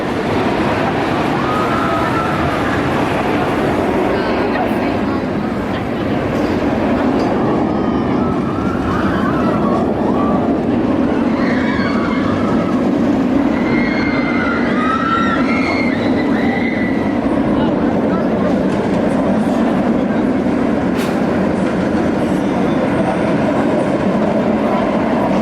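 Trains on a B&M inverted roller coaster at Cedar Point roar along the track in a long continuous rumble, with wheels clattering and faint distant screams from riders, loud and steady throughout.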